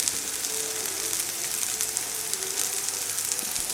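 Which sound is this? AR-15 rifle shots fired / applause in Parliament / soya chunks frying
soya chunks frying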